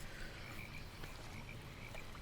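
Frogs croak in the fantasy MMO game Albion Online, a steady layered chorus running through the whole clip at moderate volume with no talking.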